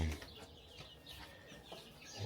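Hens clucking softly inside a backyard chicken coop on a family farm, faint scattered calls over steady low background noise.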